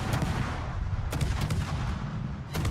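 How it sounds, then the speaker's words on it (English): Naval guns opening fire in World of Warships, several booming salvos over a continuous deep rumble, with sharp blasts at the start, around the middle and again near the end. "I might as well open up with my guns"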